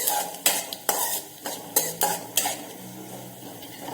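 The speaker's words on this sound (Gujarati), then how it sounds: "આ મસાલાને તેલની અંદર સારી રીતે સાતળી લઈશું" Spices sauté in oil, sizzling softly in a pan while a spoon scrapes and taps against the metal in repeated strokes, close up and without talk.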